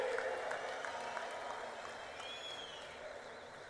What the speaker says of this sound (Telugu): చప్పట్లు ఏ విధంగా మారుమోగాలో ఒక్కసారి మళ్ళా చేసి చూపించండి